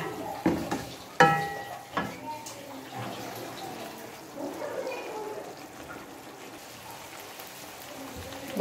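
Beef pieces frying in a pan for namkeen gosht, stirred now and then: a steady moderate sizzle with a few sharp clanks of a spoon early on, under quiet intermittent background sounds.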